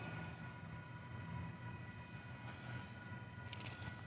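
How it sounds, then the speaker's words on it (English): A southbound Union Pacific freight train rolls past at close range with a steady, loud rumble and wheel noise, and a brief hiss of higher noise toward the end. "Hey guys, we have a southbound UP train coming."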